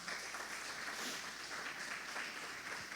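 A church congregation applauding, steady faint clapping from a crowd throughout the short stretch, distant and even.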